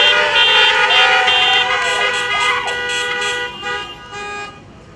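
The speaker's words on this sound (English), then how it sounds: "Let's give our dancers a round of a honking applause." Many car horns honk together in a loud, sustained chorus of overlapping tones at a high school freshman welcome event, with a few rising blasts before fading toward the end.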